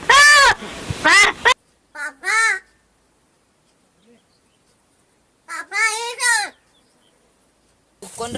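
A talking crow in Maharashtra imitates human speech in several short, harmonic, voice-like call bursts separated by silent gaps, loud and close.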